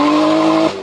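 Exhaust note of a 2006–2010 car, a short loud steady tone that holds for most of a second, then drops away.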